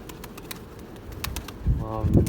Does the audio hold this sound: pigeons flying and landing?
yes